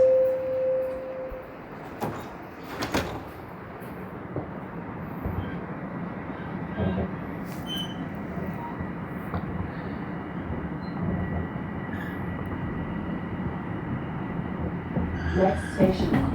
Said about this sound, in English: I'm gonna get on the train here and head north to Eglinton.